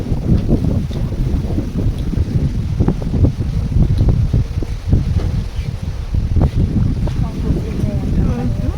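Strong wind gusts roar steadily against the microphone at a hut beside a rice field, a loud continuous buffeting rush with no other clear sounds.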